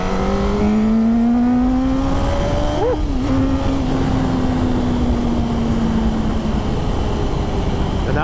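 A Yamaha R1 motorcycle accelerates hard, its engine whine rising through the revs, then briefly dips at a quick upshift out of second gear and pulls on steadily under loud wind rush.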